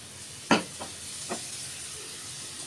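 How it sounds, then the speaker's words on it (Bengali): Sugared food fries in a pan with a soft, steady sizzle and hiss, broken by a sharp scraping stir and a couple of lighter spatula strokes close by. "ভালো করে নাড়াচাড়া করে আমি ভেজে নিচ্ছি।"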